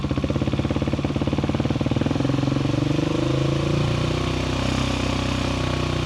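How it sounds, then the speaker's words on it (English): A 2026 KTM 690 Enduro motorcycle with a full exhaust system idles with a rapid, rough pulse, then revs up and holds at a higher pitch, loud and close. "I'll just rev it like that"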